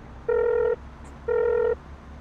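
A phone rings in Farming Simulator with two electronic trill bursts about half a second each and a pause between them. The ring is clear and steady over a low background hum.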